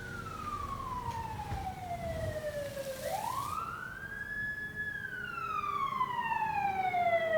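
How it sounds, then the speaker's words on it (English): In a video game, a wailing siren sweeps down, then rises and falls again, with more sirens layering in, moderately distant and steady over background noise. "Sorry about the sirens,"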